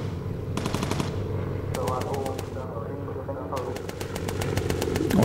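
Machine gun bursts from a bomber's turret in the World War II flight game Bomber Crew, aboard an RAF Lancaster: three rapid rattling volleys over a steady engine drone, with voices talking throughout.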